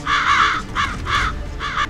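Several crows caw in four loud, harsh bursts close by, with short gaps between them and a low rumble underneath.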